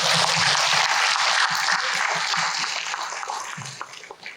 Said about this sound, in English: Please express your appreciation by giving them all a round of applause.